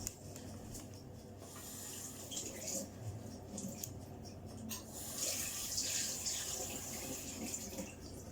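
Cold tap water runs steadily over herb leaves being rinsed at a kitchen sink, a soft continuous splashing with faint rubbing of the leaves.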